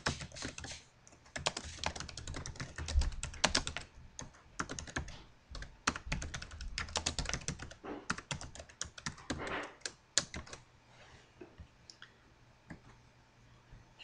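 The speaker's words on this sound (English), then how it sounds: "I can type in something new." Fingers type on a computer keyboard while filling in a Google Forms question, producing rapid irregular bursts of close key clicks with brief pauses, no voice present.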